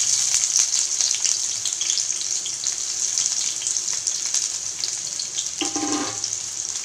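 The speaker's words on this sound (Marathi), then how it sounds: "आता आपलं तेल गरम झालेलं आहे, त्यामध्ये आपण कांदे टाकू।" Small halved onions hit hot oil in a pan, giving a bright, continuous hiss and crackle that stays loud and close, with a brief clatter near the end and no speech.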